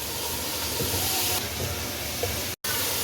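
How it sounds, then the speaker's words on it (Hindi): Masala frying with tomato in a pan for kofta biryani, a steady loud hiss and sizzle that runs continuously, briefly cutting out near the end, with no talking. "इस मसाले को इसमें भून लें टमाटर के साथ।"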